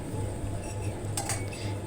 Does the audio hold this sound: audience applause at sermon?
no